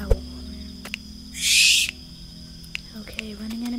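A barn owl call from the Roblox game Feather Family sounds as a single harsh, hissing screech lasting about half a second, clear and close amid faint clicks and a low hum.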